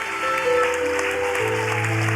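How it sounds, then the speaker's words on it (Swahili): A church congregation claps steadily for Jesus, a dense, continuous wash of many hands applauding together, loud and close, with no talking over it. "Clap up for Jesus."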